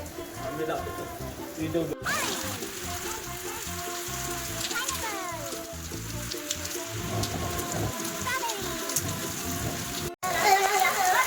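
Steady heavy rain of the first monsoon downpour in Mumbai pours down, drumming on surfaces with a constant hiss, while people talk and call out over it.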